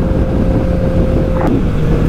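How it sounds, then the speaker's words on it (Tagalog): Strong wind roars over a Honda CB650R motorcycle on an expressway, a loud, constant buffeting rush mixed with the engine's steady drone at speed. "Parang matatanggal yung LCD sa lakas na hangin."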